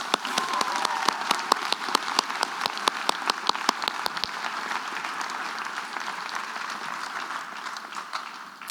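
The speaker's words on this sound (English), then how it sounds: "Let's give them a round of applause." An audience at a school prize giving applauds the prefect team with sustained steady clapping, a few sharp nearby claps standing out early before the sound settles into an even wash.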